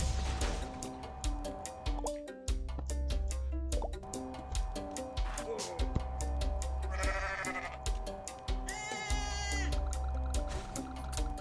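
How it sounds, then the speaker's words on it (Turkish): A goat bleats repeatedly in the Goat Simulator video game over looping game music, joined by bubbly plopping effects and chiming tones, fairly loud and continuous. "Keçiyi 12 kere meyleyeceğiz"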